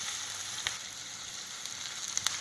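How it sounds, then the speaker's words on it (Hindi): Corn and capsicum fry in a pan with a steady, soft sizzle, broken by a few faint clicks and pops as the vegetables shift. "इनको 1 मिनट फ्राई कर लेंगे।"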